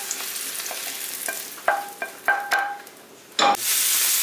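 Mushrooms seasoned with salt and pepper fry in a pan for a Moroccan brik, a steady sizzle broken by several sharp clinks and scrapes of stirring, with no talking.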